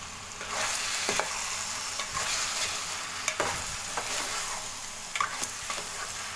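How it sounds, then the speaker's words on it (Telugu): Tomato masala with turmeric and rock salt being stirred in a frying pan for drumstick tomato rasam, a steady close sizzle with repeated scraping strokes of the spoon, no voices. "పసుపు, కల్లుప్పు అనేది వేసుకొని మొత్తాన్ని బాగా కలుపుకోవాలి"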